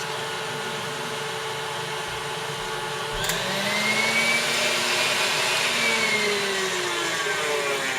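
An electric hand mixer whirs steadily through creamy cupcake frosting, a loud continuous motor drone that rises slightly in pitch partway through and holds, with no talking.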